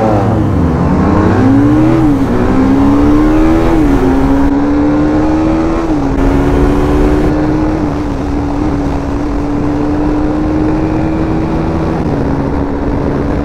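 Sport motorcycles of around 300cc, including a Yamaha R3, a 302R and an RR310, scream through a drag race, engines rising through gear shifts and then holding a loud, steady high-pitched drone close by.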